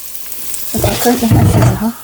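Rice is stirred in a cooking pot. After a quiet moment, loud scraping and bubbling sizzle break in and continue through the short stretch.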